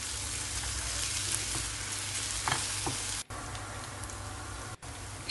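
Eggplant dish with parsley frying and being stirred in a pan, giving a steady close sizzle throughout with a few soft scraping knocks and two brief dropouts near the end.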